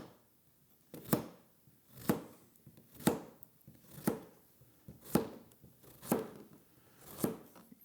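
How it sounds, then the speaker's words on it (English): A knife slices squash and zucchini into quarter-inch rounds on a cutting board, giving seven crisp, evenly spaced chops about one second apart, close and clear against a quiet background. "I'm going to cut them about 1/4 inch thick on these."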